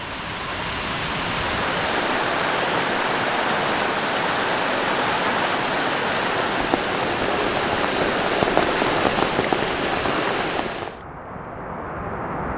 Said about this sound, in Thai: ฝนตกหนักเลยนะครับ